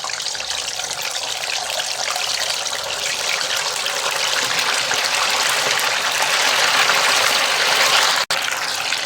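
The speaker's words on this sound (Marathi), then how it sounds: "आता तेल व्यवस्थित तापलेलं आहे, त्यामध्ये आपल्याला ह्या स्टिक्स अशा टाकायच्या" Soya chaap sticks dropped into hot oil in a pan sizzle with a steady, loud, broad hiss that holds for about eight seconds, then cuts off briefly; no one talks over it.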